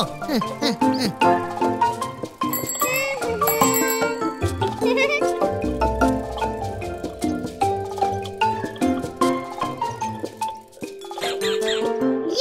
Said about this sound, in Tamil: முன்னாடி யாராவது வந்தாங்கன்னா நீ உடனே பெல் அடிக்கணும்